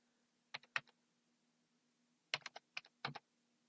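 Keys on a computer keyboard are typed in three short bursts of quick clicks, close and fairly quiet, with a faint steady hum behind them.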